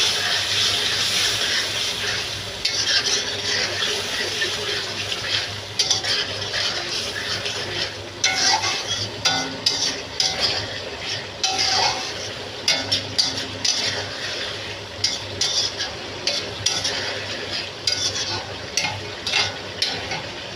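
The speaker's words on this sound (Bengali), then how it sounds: "আমি ট্যাংরা মাছটা দিয়ে কষিয়ে নিই" Tangra fish is sautéed in a spice masala, a bright, watery sizzle with bursts of spattering and scraping as the pan is stirred, growing choppier and more irregular toward the end.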